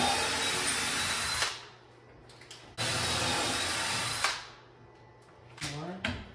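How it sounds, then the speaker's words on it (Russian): Power drill boring into an alder kitchen cabinet during a kitchen installation in the US, heard close as two separate whirring bursts of about a second and a half each, followed by a brief muffled sound. "Сверла тупые."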